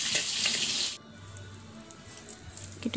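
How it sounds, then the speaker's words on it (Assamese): Hot oil in a kadai, left over after frying fish, sizzles loudly and crackles for about a second, then drops to a low, quieter simmer. "কেটুকুৱা মাছ আৰু কেৰাহীখনত অকণমান তেল কমি আছিলে, অলপ দি দিছোঁ।"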